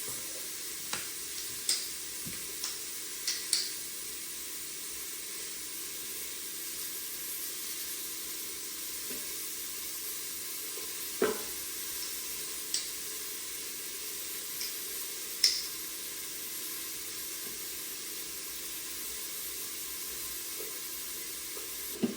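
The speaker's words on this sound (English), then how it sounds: "This garlic and onion smells so good. And I'm just gonna keep stirring it because I don't want the garlic to burn." Garlic and onion sautéing in an Instant Pot, a steady soft sizzle throughout with scattered light clicks and taps of a utensil stirring against the pot.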